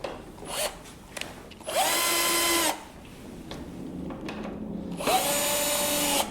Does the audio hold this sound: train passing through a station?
no